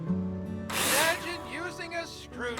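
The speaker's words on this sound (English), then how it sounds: "Choose a drill and insert the necessary screws." A power drill in the video game Builder Simulator drives screws into hinges, letting out a brief whirring burst that is partly masked by someone talking throughout.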